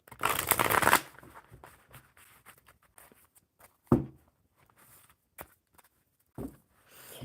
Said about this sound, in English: Well, these cards aren't shuffling very well.